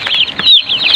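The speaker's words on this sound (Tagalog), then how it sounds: "Yan, ang mga sisiw" Chicks and chickens on a family farm, close bright peeping and clucking calls that overlap continuously in a short loud burst, with no talk.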